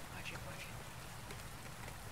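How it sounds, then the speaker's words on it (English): Pouring rain in the video game Rainswept makes a dense, steady hiss of drops on surfaces. The level is fairly soft and even throughout, with faint speech-like sounds mixed in. "he couldn't hear you over the pouring rain"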